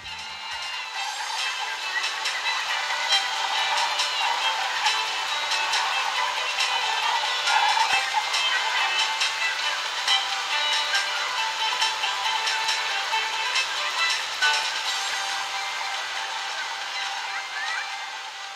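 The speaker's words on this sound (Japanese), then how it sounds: "気になるファンの音が結構します" Gaming laptop fans spinning hard while running a long FF15 benchmark with the GPU at full load, a steady airy whoosh with faint whine, continuous and fairly loud for the whole stretch.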